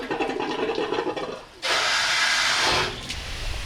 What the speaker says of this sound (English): Water sprayed over the top helps to smooth out the imperfections.